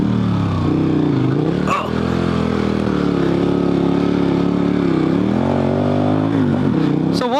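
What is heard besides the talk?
motorcycle on Heidenau K60 Scout tires accelerating through U-turn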